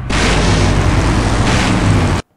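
A loud, sustained video game explosion roars as a dense wall of noise for about two seconds, then cuts off abruptly into silence.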